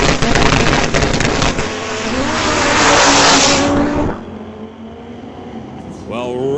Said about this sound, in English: Well, Robin Bond, that car makes a lot of noise